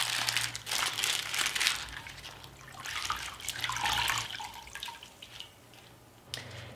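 Crumpled baking paper being wetted under running tap water, soft splashing and trickling mixed with faint crinkling of the wet paper, fairly quiet and close.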